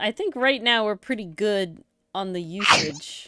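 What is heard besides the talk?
sneeze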